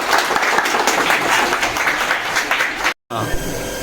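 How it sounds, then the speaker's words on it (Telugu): A crowd claps loudly and steadily at a water plant inauguration, dense close applause with a brief cut near the end before it resumes. "అందరూ క్లాప్స్ గట్టిగా"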